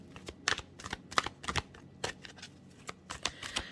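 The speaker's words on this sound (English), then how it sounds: "So let's shuffle again." Tarot cards riffle and snap in a quick series of crisp bursts, close to the microphone with no talking.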